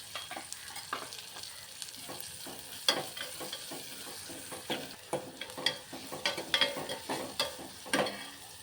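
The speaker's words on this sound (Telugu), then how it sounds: "ఇప్పుడు ఉల్లిపాయ వేసుకోవాలి ఒకే ఒక ఉల్లిపాయ పెద్దపాయ అనమాట చిన్న ముక్కలు కోసుకుని వేసుకోవాలి" One large chopped onion fries in hot oil in a pan, giving a soft steady sizzle broken by repeated scraping stirs, close and fairly quiet, with no voices.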